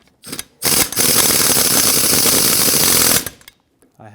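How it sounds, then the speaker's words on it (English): An air impact wrench on its lowest setting runs down the rear brake caliper bracket slider pins on a 2007-2014 Chevrolet Silverado 2500 HD, with two short bursts and then a long, loud continuous rattling hammer. "I had my air impact on the lowest setting, so at this point they're bottomed out and snugged."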